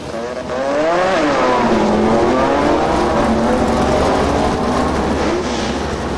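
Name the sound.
Mazda RX3 race car accelerating at Calder Park drag strip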